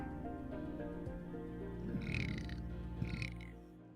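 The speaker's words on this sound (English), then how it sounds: "I drank a bunch of Monster before stream and had a big old burp" A long, loud, resonant burp rumbles on for several seconds after drinking a lot of Monster energy drink. It is close to the microphone with a rough, gurgling texture and no talking over it.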